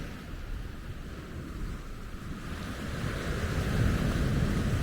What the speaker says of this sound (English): See the waves coming in.